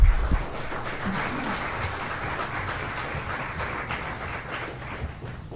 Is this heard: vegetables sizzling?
no